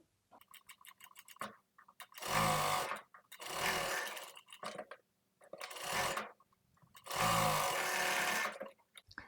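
An electric sewing machine stitches lining cloth onto the main frock fabric for a baby outfit, running in four loud rattling bursts separated by quiet gaps with faint clicks.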